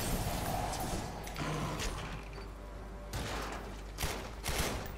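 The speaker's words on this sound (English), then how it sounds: "Con el AK. Es una AK-74." Sustained AK-74 rifle fire in the video game The Darkness 2, a dense fusillade of rapid bursts with metallic mechanical clatter, loud and continuous, swelling again near the end.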